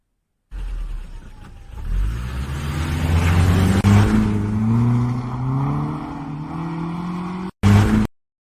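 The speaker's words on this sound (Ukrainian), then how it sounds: "Так, це їде машина." A car engine builds and revs as the vehicle drives past, a steady motor drone with rising and falling pitch, loud and close, broken by a short gap near the end.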